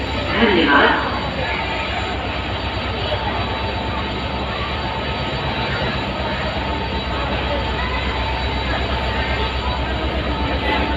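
Steady low rumble of a train at Guwahati station, a continuous mechanical drone with broadband noise throughout, loud and close, with a person talking over it.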